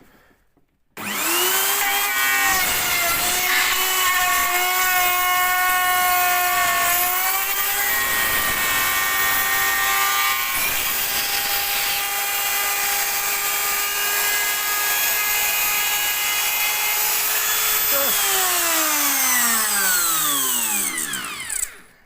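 A loud, high-pitched whine of a power router or trimmer trimming a plywood arch edge indoors, running continuously with slight pitch shifts, then spinning down at the end.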